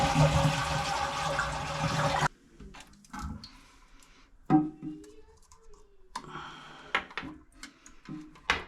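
A toilet with a broken handle flushes loudly, its tank water rushing and draining for about two seconds. The rush cuts off and is followed by quiet clinks and small fiddling sounds.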